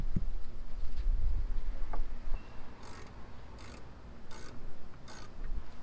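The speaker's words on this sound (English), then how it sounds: "With your 10mm socket, go ahead and insert the screw back to hold the tail light." A 10mm socket ratchet drives a screw holding a Jeep JL tail light, its clicking strokes arriving in four short bursts over a steady low background hum.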